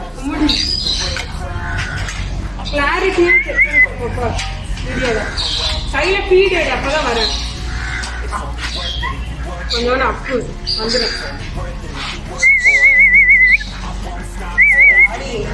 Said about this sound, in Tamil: இதுக்கு பேர் வந்து கானூர் பேர்ட்ஸ்.